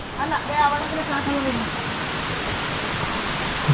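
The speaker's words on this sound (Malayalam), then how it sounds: "വാട്ടർഫോൾസിൻ്റെ ഏകദേശം അടുത്ത് എത്താറായി കേട്ടോ. സൗണ്ട് കേട്ട് തുടങ്ങി." A broad, steady roar of the Valli Chunai cave waterfall, heard from nearby and continuing throughout, with people's voices under the rushing water early on.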